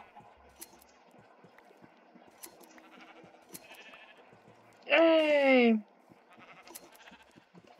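A Minecraft sheep lets out one loud, wavering bleat near the middle, standing out over quiet game noise and a brief shout.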